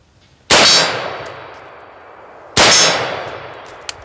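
Bullets from an M14 rifle strike a swinging steel target downrange. Two sharp, ringing metallic clangs come about two seconds apart, each decaying into a resonant hum.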